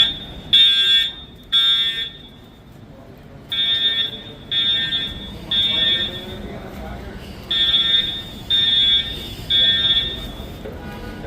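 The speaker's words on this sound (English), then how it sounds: "all of a sudden these alarms go off" A building fire alarm sounds inside a private office building, its shrill electronic tone pulsing in steady on-off bursts, loud and close over a murmur of voices and room noise.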